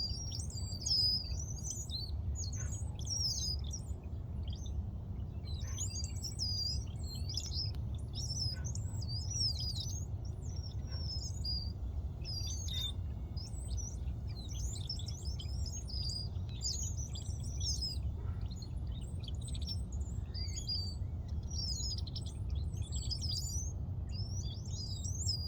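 Many small birds chirp and twitter in quick, overlapping bursts near a park in Midland, steady and clear above a low rumble of distant background noise.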